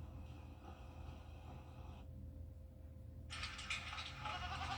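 Goats bleat in a television commercial for an injury attorney firm, a few loud bleats mixed into steady background sound and growing louder toward the end.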